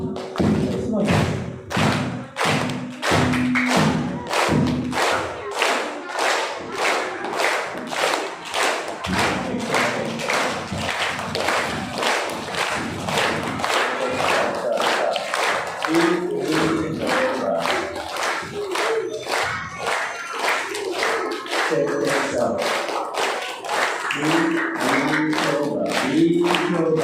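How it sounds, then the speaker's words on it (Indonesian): Group rhythmic clapping at a morning Ramadan welcome gathering, many hands striking together in a steady repeating pattern with short pauses between bursts, loud and close, with voices talking over parts of it. "kita awali kegiatan di pagi hari ini dengan tepuk tangan berirama seperti ini teman-teman"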